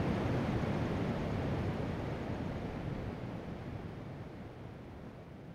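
A weak but deep forest stream at Suối Cái Đồng Din in Phú Hòa flows as a steady broadband rush of water, easing slightly over several seconds with no one talking.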